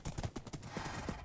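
A horse in the video game WynnCraft trots through a forest, its hooves clip-clopping in quick, uneven beats, close and distinct.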